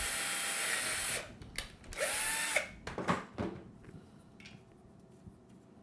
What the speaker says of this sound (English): just going to repeat that same process, again taking care that my fingers are not in the way of the drill